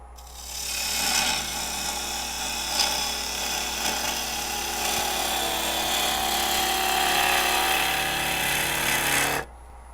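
A woodturning lathe cutting highly figured English walnut, a continuous scraping, chattering cut with rough rhythmic bursts, close and fairly loud, running steadily before stopping abruptly near the end.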